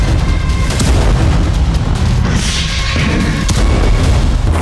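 Heavy explosions boom over Kyiv during a night-time kamikaze drone attack: loud, dense rumbling blasts with one deep burst after another and a constant roar underneath.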